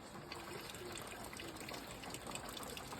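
Rainwater leaking into a house during heavy rain, a steady continuous splashing and trickling wash of water, fairly close and unbroken throughout.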